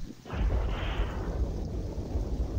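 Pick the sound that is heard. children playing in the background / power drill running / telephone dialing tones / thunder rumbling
thunder rumbling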